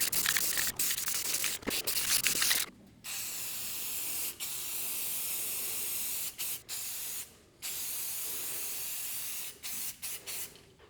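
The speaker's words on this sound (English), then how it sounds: "I've got some spray paint, so I'm gonna go ahead and just paint it." A spray paint can hisses in several long bursts separated by short pauses, close and steady, with a few light rustles between sprays, painting a firewood stand.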